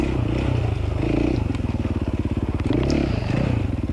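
An enduro dirt bike, a 260-pound machine full of gas, chugs along off-road in a hard enduro race, its engine popping in a fast, even pulse with clattering and scraping over rough side-hill ground.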